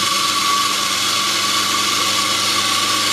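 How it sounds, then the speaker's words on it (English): PBO12 coffee grinder running beside a Bezzera Galatea espresso machine, giving a continuous, fairly loud motor whir with a high-pitched hum that holds steady without pause. "about the PBO12 grinder, it's not very loud"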